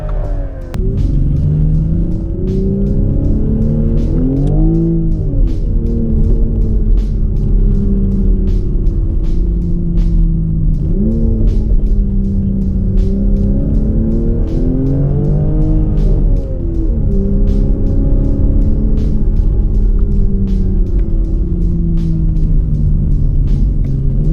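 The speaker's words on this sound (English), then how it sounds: "The exhaust of the car is not extremely loud, but it sounds good." A Toyota Supra MK5's exhaust drones steadily and loudly, rising and falling through several revving swells, with no voices.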